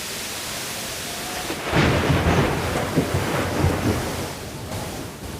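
A sudden lightning storm with thunder and rain: steady rain hiss, then a heavy rumbling thunder roll swells in and lingers loudly for several seconds before easing.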